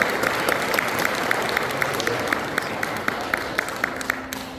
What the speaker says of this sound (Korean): 인사를 큰 박수 부탁드리겠습니다.